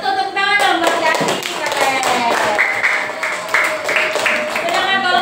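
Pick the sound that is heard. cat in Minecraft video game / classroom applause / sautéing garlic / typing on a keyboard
classroom applause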